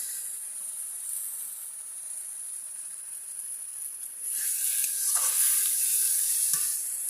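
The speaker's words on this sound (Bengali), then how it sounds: "মশলার কষানো হয়ে গেছে, জল দিয়ে দিচ্ছি।" Fried fish curry spice paste sizzles steadily in oil, then water poured in brings a louder, brighter hissing surge with bursts of bubbling in the second half.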